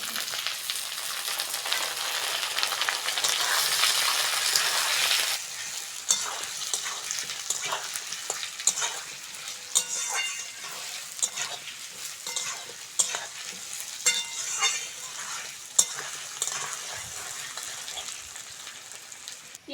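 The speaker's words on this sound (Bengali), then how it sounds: "পেঁয়াজের সঙ্গে আলুটা ভালো করে ভেজে নিয়েছি" Potatoes and onions fry in oil in a pan, a steady crackling sizzle with frequent stirring scrapes throughout, louder and denser at the start before settling to an even hiss, with no talking.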